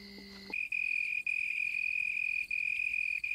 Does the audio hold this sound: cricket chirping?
yes